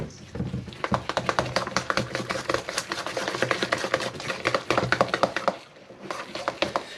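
Vegan cornbread batter beaten by hand in a bowl, a fast, steady run of close, loud tapping and knocking strokes that pauses briefly near the end before resuming, with a voice speaking over it.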